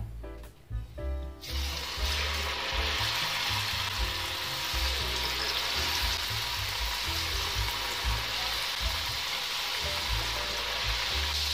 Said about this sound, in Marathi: आता आपण तेलामध्ये चकली सोडूया